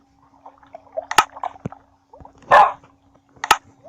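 A few short video-game dog barks and yips in Minecraft, separated by pauses, mixed with clicks and a brief splashy burst.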